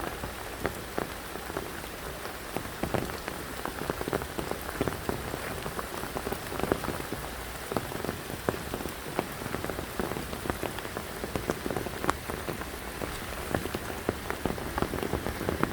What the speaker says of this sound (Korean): 지금 비 내리는 숲속에 들어와서 제가 촬영을 하고 있습니다.